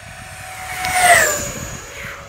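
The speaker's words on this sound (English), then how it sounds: "This is probably the fastest jet we filmed." An FMS Futura V2 80mm electric ducted fan model jet makes a fast pass, its high whine rising to a loud peak overhead and then falling away over a couple of seconds.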